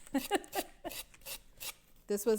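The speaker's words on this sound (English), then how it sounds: "Did you ever think you would be sanding styrofoam?" A gritty rubbing and rasping sound of styrofoam being sanded for tabletop terrain in short, uneven strokes, close up, with people talking over it.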